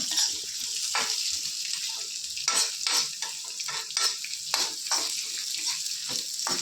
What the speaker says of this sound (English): Fry this so that it slightly gets browner.